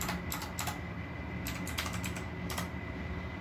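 Someone types a command on a computer keyboard in a few quick bursts of clicks separated by short pauses, over a faint background hiss.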